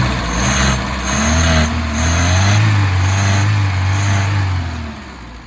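A Renault 16 car engine idling steadily after carburetor work, a close, loud, even low rumble with slight rhythmic pulsing, fading a little at the very end, with no voices.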